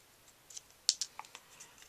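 Scissors cutting paper for a handmade birthday card, a few quiet, close snips and crisp clicks spaced irregularly.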